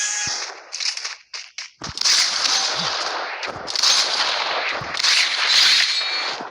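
Sniper and other gunfire in a video game crack out as a burst of sharp shots, followed by dense, continuous rattling fire and explosive bursts, loud and close without speech.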